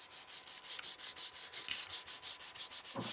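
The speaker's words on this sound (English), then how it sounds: "The little tag will just be sanded off and then the divot will be smoothed out." Rhythmic rasping strokes of sandpaper on a book spine, about four per second, steady and close, with a faint soft knock near the end.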